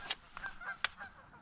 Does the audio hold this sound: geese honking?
yes